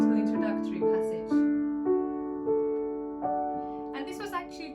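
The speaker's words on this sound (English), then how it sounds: "So this is how the composition starts" Solo piano plays the gentle introductory passage of a Grade 2 piece, a few sustained notes and chords struck one after another at a slow, unhurried pace, close and clear with no talking.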